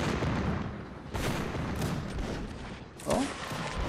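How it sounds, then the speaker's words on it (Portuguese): A bomb blowing up in a Napoleonic Wars battle game, heard as a dense burst of cracking blasts and booms amid ongoing battlefield gunfire, with a sharp loud hit near the end. "Ih, caraca, acendi a bomba."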